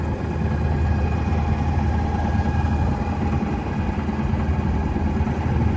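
A Freedom 28 sailboat's engine runs steadily while motoring out past channel markers into the open Strait of Juan de Fuca, a continuous low droning rumble with no voices.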